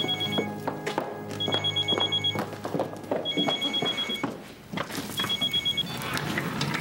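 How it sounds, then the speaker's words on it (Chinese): A telephone bell rings in repeated bursts with short gaps between them, close and fairly loud indoors, with faint background activity and no speech. "我先接一个电话"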